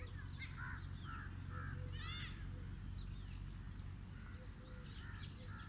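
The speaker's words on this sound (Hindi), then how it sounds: "ये फाख्ता की आवाज़," Outdoor morning birdsong with a dove calling among other birds, including a cuckoo-like caller; repeated call phrases sit over a steady low ambient rumble, with no talking.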